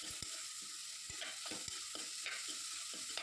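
A beetroot mixture is stirred as it fries in a pan: a constant soft sizzle with a series of close spoon scrapes and taps at an irregular, unhurried rhythm, and no voices.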